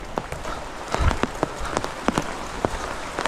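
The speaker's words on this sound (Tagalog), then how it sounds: "timing na umaambon," Light drizzle falls at a house construction site in Aguilar, Pangasinan, with scattered soft drops ticking on nearby surfaces over a quiet background.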